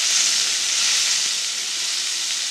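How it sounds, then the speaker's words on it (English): Prawns for a vindaloo lightly frying in a pan, a loud, even, continuous hiss of sizzling oil with faint stirring ticks, close up and without speech. "we're just going to lightly fry these"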